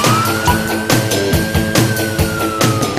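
A police siren wails steadily with a rising and falling tone, loud and close, over rhythmic background music, with no talk.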